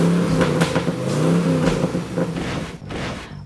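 A hot rod engine rumbles loudly nearby, revving in a few throaty surges before settling back to idle.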